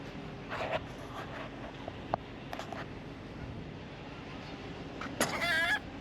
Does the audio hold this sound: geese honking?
yes